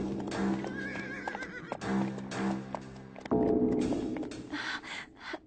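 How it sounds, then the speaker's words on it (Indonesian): Horses whinny and neigh repeatedly in a cartoon, with clopping hooves and rustling movement, loud and close, suggesting several horses arriving together. "Itu suara kuda dari orang kafir."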